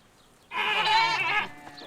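A goat bleats in a livestock pen on a small goat and sheep farm in China, giving a single loud, wavering call of about a second in a quiet setting.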